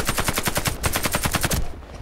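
Rapid automatic fire from an AK-103 rifle in the shooter game Warface, a dense steady stream of close, sharp shots over about a second and a half before cutting off.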